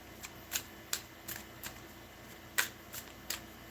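Soft, crisp riffling snaps of tarot cards being shuffled, a handful of quick bursts at uneven intervals, close and quiet with no voices.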